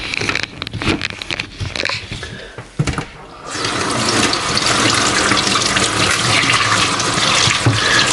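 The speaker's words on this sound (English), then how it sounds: "the first thing I'm going to do is just wash my green bananas" Green bananas washed under a running kitchen tap: a few seconds of clattering and handling give way to a steady, loud rush of water pouring into the sink.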